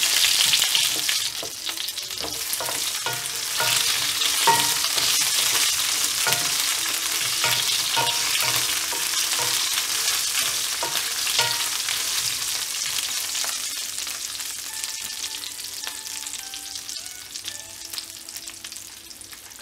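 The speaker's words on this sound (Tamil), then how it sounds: "இந்த எண்ணெயில் இந்த பூண்டும் கத்திரிக்காயும் நல்லா வதங்கணும்." Garlic and brinjal sauté in oil for a kathirikai kulambu, with a loud, constant hiss of frying and a run of rapid spatula scrapes that slows toward the end and no talking.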